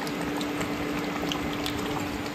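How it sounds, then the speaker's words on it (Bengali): Mutton braising in a pot on an induction cooktop gives a steady, close bubbling sizzle that holds at an even level throughout with no voices. "মাটনটা কষছে"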